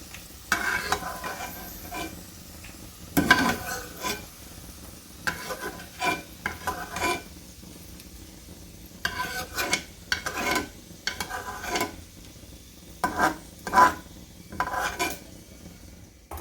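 Almonds, walnuts and cashews tossed and stirred in a pan, clattering in irregular bursts of scraping and knocking over a faint background sizzle.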